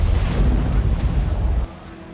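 A bomb blast in a parked scooter near BSF headquarters, caught on CCTV, comes through as a loud, sustained rumbling roar with heavy low end that cuts off abruptly near the end and leaves a quieter background.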